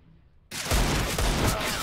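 Sudden burst of rapid video game gunfire breaking in after a near-silent half second, loud and continuous with dense repeated shots to the end, no talking.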